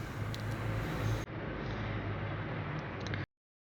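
Road traffic on EDSA: a steady, moderate low rumble of passing cars with a brief dip partway through, no voices.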